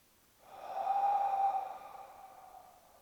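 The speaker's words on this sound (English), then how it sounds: "Deep breath in." One slow, deep breath during yoga practice, rising and fading over a couple of seconds, soft and close in a quiet room.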